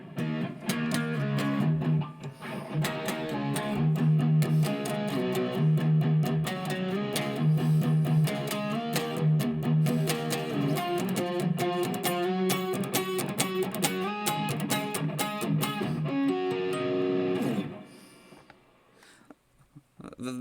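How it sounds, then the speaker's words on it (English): Distorted electric guitar riff played close and loud, a steady chugging pattern with repeated notes that runs for most of the stretch before cutting off near the end, with no talking over it. "turn the distortion back on now."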